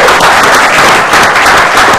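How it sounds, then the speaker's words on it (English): A crowd gives a loud, sustained round of applause for Baltimore Ravens owner Steve Bisciotti as he joins a live show, a dense, steady wash of clapping with no pauses and no clear voices. "Another round of applause for him."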